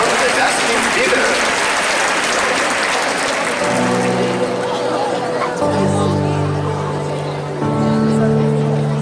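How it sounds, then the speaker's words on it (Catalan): Applause from a crowd at a Nou Barris public event in 2022 fills the opening seconds, then fades under a sustained musical tone that enters partway through and continues to the end. "Els hi demano un aplaudiment per tots aquests estels."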